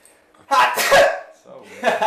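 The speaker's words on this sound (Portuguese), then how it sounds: "Eu acho, vou espirrar." A single close, loud sneeze bursts out during a podcast, followed by a brief exhale or sniff.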